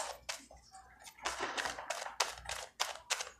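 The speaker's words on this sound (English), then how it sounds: "One more shuffle." A deck of tarot cards being shuffled close by: a series of crisp, papery riffling bursts in quick succession, with no talking.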